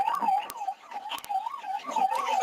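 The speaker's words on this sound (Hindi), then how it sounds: "अचानक अंधेरा छा गया और सायरन बजने लगा" An air raid siren sounds during a blackout mock drill in Uttar Pradesh, its tone wailing up and down in a slow, regular cycle, heard from a distance and moderately loud with no talk.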